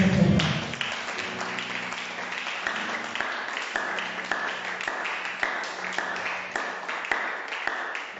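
A church congregation applauding during a worship service, a moderate, steady patter of clapping from a room of people, with a faint voice briefly heard under it near the start.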